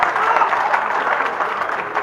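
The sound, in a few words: audience applause at comedy show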